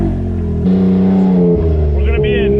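Tuned 2020 Can-Am X3 RR side-by-side engine, running race gas, cranks up and then revs hard close by, loud and sustained, with the pitch climbing through several surges.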